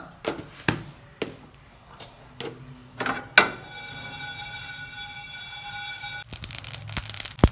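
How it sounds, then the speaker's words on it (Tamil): Mustard seeds crackle and pop in a hot pan, sharp irregular snaps giving way to a steady sizzling hiss with more popping at the end. "கடுகு நல்லா வெடிக்கட்டும்"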